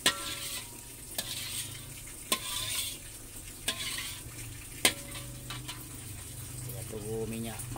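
Hot oil crackles and sizzles steadily in a wok, with a few sharp metallic clinks of a utensil against the metal.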